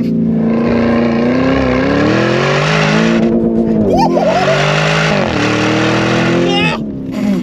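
A powerful Lamborghini Urus Performante engine roars loudly and steadily on a track, its pitch rising and falling with revs, while people talk over it.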